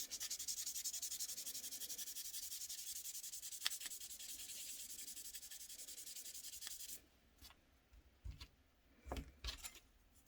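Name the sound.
sanding surface with 3000 grit sandpaper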